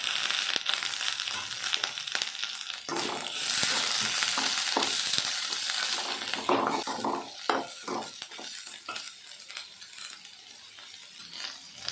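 Onion, green chillies, ginger and garlic frying in hot oil, a steady loud sizzle with scraping and clinking of a spatula against the pan throughout.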